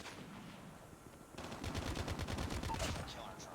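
Rapid automatic gunfire in the mobile shooter game Call of Duty Mobile, a quick run of about a dozen evenly spaced shots after a quieter lead-in, fairly faint and heard without speech.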